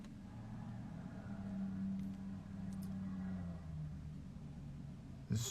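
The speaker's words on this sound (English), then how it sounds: "This loud truck driving out." A truck's engine rumbles low and steady as it drives out, fairly quiet and somewhat distant, with no talking.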